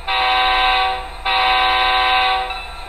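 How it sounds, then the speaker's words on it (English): A loud, piercing diesel locomotive horn sounds a whistle signal twice, a long blast followed by a second long blast after a brief gap, close by. "Now we're gonna blow our whistle signal."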